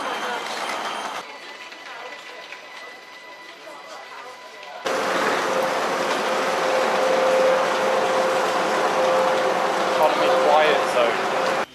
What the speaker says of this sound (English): This is the train that's just arrived here